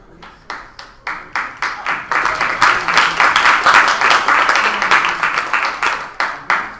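Scattered audience clapping at a training session starts with a few distinct individual claps, then swells into fuller applause that stays rhythmic and choppy before thinning out again.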